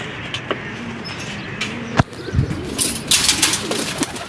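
Several pigeons coo softly nearby, with a sharp wing flap or clatter and some rustling and fluttering toward the end.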